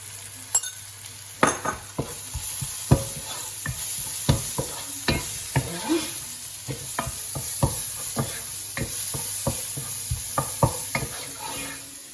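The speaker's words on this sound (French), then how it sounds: "Je vais mettre les épices." Spices tipped into a hot pan of garlic, ginger and onion for a shrimp coconut curry, sizzling loudly while a utensil clacks and scrapes against the pan in a quick, uneven rhythm, with no voices.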